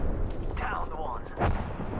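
Gunfire from a battle in the video game Apex Legends, with shots rattling at moderate distance under a busy game mix and a burst of heavier booms near the end, a voice faintly present.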